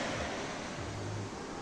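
Sea waves at Bauang beach wash in as a steady, broad rush of surf, close and continuous for the short stretch with no talking.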